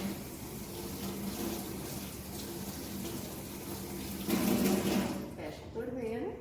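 Tap water running steadily into a sink during hand washing, a soft continuous splash under someone speaking Portuguese, briefly louder near the end.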